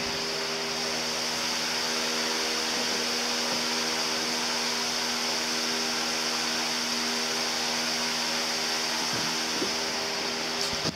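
A shaker drive unit on a 12-volt battery pack with a speed control runs flat out at about 370 cycles per minute, giving a steady, loud, unbroken motor whine and hum close by, with no speech.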